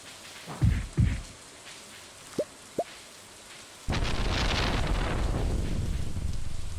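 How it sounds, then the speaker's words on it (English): Thunderstorm in the Stardew Valley video game, a few soft thumps and two brief tonal blips, then heavy steady rain suddenly swelling into a loud continuous wash. "It's a nice thunderstorm today."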